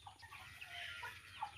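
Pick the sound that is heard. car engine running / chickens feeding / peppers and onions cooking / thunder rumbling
chickens feeding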